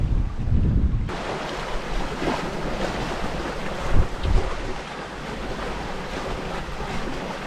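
A sailboat cracking along in a 16 to 18 knot wind on the way to the Orkney Islands, with a steady loud roar of wind and rushing waves against the hull and heavy wind buffeting on the microphone.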